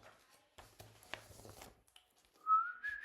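A human whistler imitates a nightingale's song with a short rising whistled phrase, quiet and close, near the end after some faint rustling.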